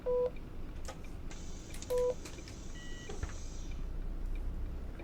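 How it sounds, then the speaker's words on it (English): In the OMSI 2 bus simulator, a Volvo B5LH Wright Gemini 3 sounds its handbrake warning as two short electronic beeps about two seconds apart over low engine hum, followed by a higher tone and a fading hiss. "That's the bad boy alarm. It means you've taken your handbrake off before the doors have shut."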